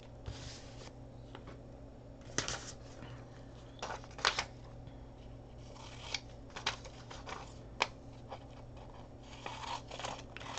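Scissors snip through paper documents and script pages at an altered-book collage table, a series of short crisp cuts scattered irregularly over a low steady background hum, close and fairly quiet.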